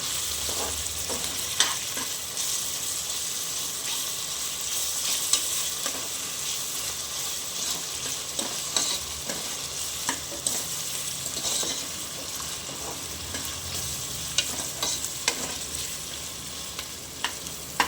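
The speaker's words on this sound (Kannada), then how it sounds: "ಇವಾಗ ಇದನ್ನು ಸ್ವಲ್ಪ ಚೆನ್ನಾಗಿ ಹುರ್ಕೊಳ್ಳೋಣ, ಅಂದರೆ ಹಸಿ ವಾಸನೆ ಹೋಗಬೇಕು ginger garlic paste. So fry ಮಾಡ್ಕೊಳ್ಳೋಣ ಕ್ಲೀನಾಗಿ." Ginger garlic paste fries in a pan for a potato and soya chunk gravy, a constant dense sizzle with intermittent stirring clicks and scrapes throughout; no talking.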